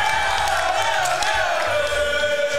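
A tournament crowd cheers and whoops after a Smash Ultimate grand finals doubles win, a steady roar of voices that sounds fairly distant.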